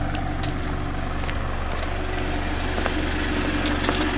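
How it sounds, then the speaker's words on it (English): A 2015 Mazda 6 Touring with a 4-cylinder engine idles, its exhaust holding a steady low rumble close by with a few faint ticks over it and no talking. "It's a 4-cylinder, so I mean, you'll have an okay sounding exhaust."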